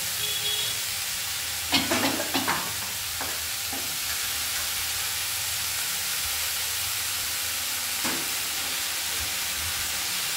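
Washed spinach dropped into a hot pan of oil sets off a steady, soft hiss of sizzling, with a few sharp clatters and stirring scrapes early on and one more later, and no talk.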